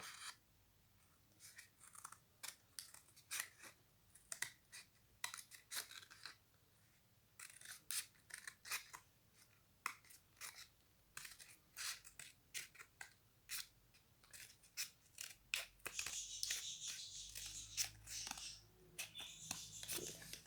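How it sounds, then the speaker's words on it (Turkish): Scissors snipping material while making a pop-it toy, with many quick, crisp cuts in an irregular rhythm, close and fairly quiet, and some rustling toward the end. "Şimdi kesiyoruz."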